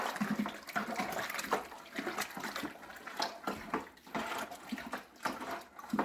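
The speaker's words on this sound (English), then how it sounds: "Then I rinse the bag to get all the juice out." Water sloshes and splashes inside a wine kit juice bag during rinsing, a continuous, close, uneven gurgling and swishing with irregular surges and no talk.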